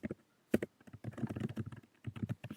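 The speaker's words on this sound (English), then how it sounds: "I don't know what I'm typing." Quick bursts of computer keyboard typing, irregular clusters of keystrokes with short pauses between, close and moderately quiet.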